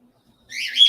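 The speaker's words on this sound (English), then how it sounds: "Oh, time for the bird to start screaming." A pet bird screams in a short, loud burst of shrill calls that rise sharply after a brief quiet, close and alone with no talk.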